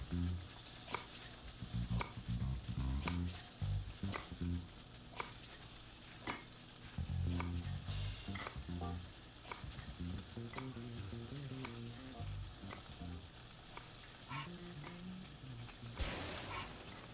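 Shallots sizzling in a pan in a restaurant-simulator cooking video game, a constant frying hiss running under bright game sound effects, clicks and a light musical background.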